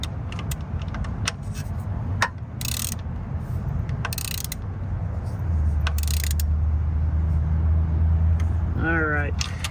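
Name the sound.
tightening the Ford Fiesta transmission mount bolts with a ratchet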